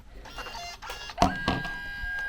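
A Kodak Mini 2 retro-style photo printer switching on, giving a short click followed by a brief chime and a sustained electronic tone, heard close up with nobody speaking.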